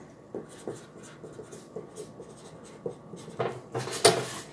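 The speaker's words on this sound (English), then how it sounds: "I'm going to write on here" Chalk or marker writing on a Chalk Couture transfer laid over a board, heard as soft scratchy strokes in short bursts with a sharper tap near the end, close and fairly quiet with no talk.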